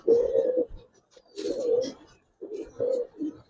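Giribaz pigeons coo in a loft: three close, soft, throaty rolling coos separated by short pauses, with no talking.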